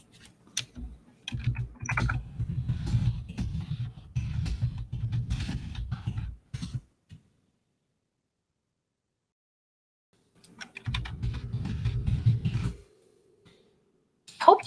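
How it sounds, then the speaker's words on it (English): Loud computer keyboard typing comes in two long bursts of rapid, close clacking, with a quiet gap between them and a faint breath near the end. "Hope you cannot hear my typing too loud. I know I have a loud keyboard."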